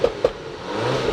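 Exhaust crackles and pops from a stage 3 tuned Audi A4 running E85, a few sharp bursts over a steady engine drone, close and fairly loud.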